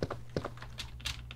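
Computer clicking and key tapping while playing Resident Evil 2, a quick irregular run of close, crisp clicks and taps with no voices.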